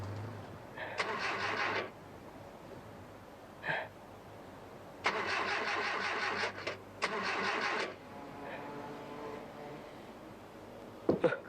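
A car engine cranks in three separate bursts, rough and mid-pitched, and never catches; the vehicle appears in a 1979 Indonesian film, with faint background noise between attempts.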